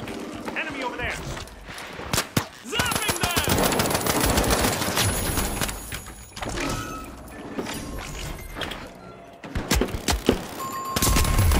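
Rapid automatic gunfire in the shooter game The Finals, fired with a gun-shaped mouse, mixed with player voices and game sounds.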